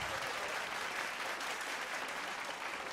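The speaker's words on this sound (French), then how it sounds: "On peut applaudir très fort notre ami Zinzin dans ce magnifique Paso Doble." Steady, dense applause from a dance-hall audience after an accordion paso doble at a popular ball, sustained evenly throughout with a faint crowd murmur underneath.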